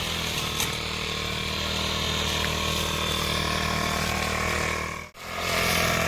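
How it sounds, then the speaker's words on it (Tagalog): Gasoline grass cutter clearing a lot for napier grass, a loud close two-stroke engine drone held steady, with a brief dip near the end before it roars on again. "our grass cutter in action."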